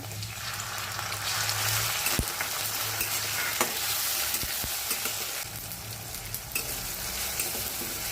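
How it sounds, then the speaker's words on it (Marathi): Onion and tomatoes sauté in hot oil in a kadhai, a continuous bright sizzle with occasional scraping stirs and clinks, close and steady without any talk. "कांदा भाजला आहे, त्यामध्ये टोमॅटो परतून घेऊया"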